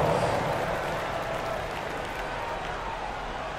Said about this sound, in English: Team, a big round of applause.